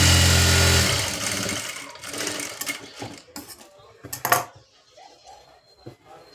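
A sewing machine stitching a lining blouse runs steadily at first, then stops, followed by scattered clicks, fabric handling and light clatter at close range, with no speech.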